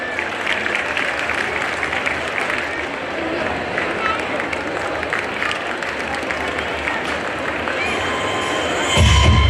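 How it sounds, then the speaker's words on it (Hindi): Loud, sustained audience applause and cheering at a community award ceremony honoring newly qualified chartered accountants, a dense crowd roar running throughout with scattered shouts and a sharp burst at the end. "जोरदार तालियों के साथ"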